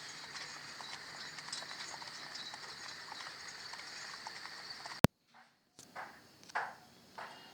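Horse hooves clip-clopping over a short causeway, a steady run of light hoof beats for several seconds, then a sudden cut to near silence followed by a few scattered fainter knocks.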